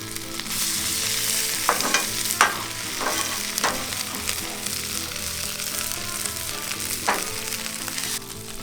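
Food frying on a five-burner Pit Boss flat top griddle, a constant close sizzle broken by sharp scraping and stirring strokes from a spatula at irregular moments.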